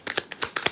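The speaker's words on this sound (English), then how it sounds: "I'm gonna shuffle this shit again." Tarot cards are shuffled by hand in a quick run of five or six crisp riffling bursts, close and fairly soft, with no talking.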